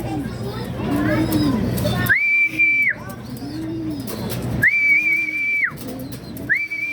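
A racing pigeon comes home to the loft in Pagbilao, Quezon, with soft cooing and rustle beneath people talking nearby, while loud, sustained whistle tones sound several times.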